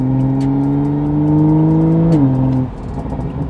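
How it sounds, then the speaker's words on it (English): Car fitted with an aftermarket downpipe revs up close by, a loud steady engine drone climbing in pitch for about two seconds before dropping off sharply. "This car sounds really good with just a downpipe."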